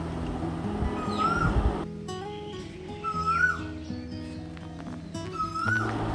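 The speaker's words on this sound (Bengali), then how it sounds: "আর যেমনি আকাশটা আর তেমনি কোকিল পাখি ডাকছে চারিদিকে" An Asian koel's rising, whistled call repeats several times at moderate distance over a low rumbling background with other faint animal sounds.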